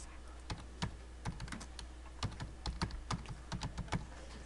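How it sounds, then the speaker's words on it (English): Steady typing on a computer keyboard, a run of close, crisp key clicks in an uneven rhythm, some in quick bursts, with no one speaking. "and then I can type Chloe Cassidy High School Math."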